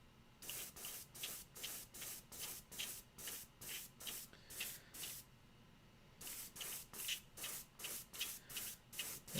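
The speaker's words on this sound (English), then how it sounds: "Airbrush is being a little spitty" An airbrush sprays paint onto a Warhammer 40k Necron Overlord miniature in rapid, evenly spaced hissing bursts, about a dozen in a row, a short pause, then another steady run, close and moderately quiet.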